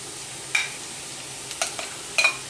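Sausage drops into a pan with garlic and fries against it. A quiet, steady sizzle runs throughout, broken by a few short scrapes and stirring knocks.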